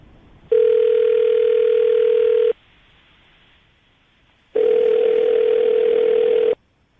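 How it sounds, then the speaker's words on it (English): A telephone call placed on the Brooke and Jubal morning radio show rings out as two loud, steady two-second tones separated by a silent gap. "We're going to call him right now, see if we can get him on the phone"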